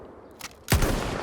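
A single sniper rifle shot in Battlefield 1: a faint click, then one loud, close blast whose echo rolls out and lingers.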